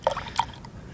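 Coolant glugs and drips as it is poured into a Toyota Prius radiator, with a few brief liquid plops close up.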